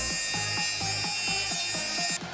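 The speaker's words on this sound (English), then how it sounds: "Then smoothen the edges of those layers." Edges of 3D-printing filament dryer layers are smoothed by hand, giving a steady rhythm of short back-and-forth rasping strokes, close and fairly loud over a constant high hum that drops out near the end.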